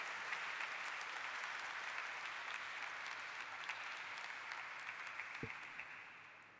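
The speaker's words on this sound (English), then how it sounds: "Please give a big, big, big round of applause, ladies and gentlemen" Audience applause at a company stock listing ceremony, sustained broadband clapping from a crowd that holds steady and then slowly tapers off, moderately distant, with no talking.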